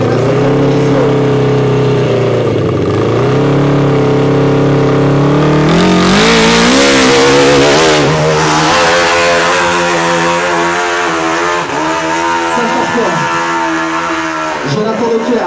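A racing boat's engine gives a loud, continuous roar with shifting pitch, sustained throughout, with French race commentary talking over it much of the time.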